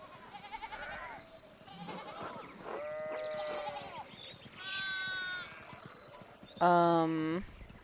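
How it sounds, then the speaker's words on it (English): Sheep in the video game Pentiment, hopping over a fallen fence rail, bleat in a few loud, wavering calls with clattering hoof-like steps and background game ambience, the last bleat the loudest and closest. "one of the fence rails fell and the sheep started hopping it"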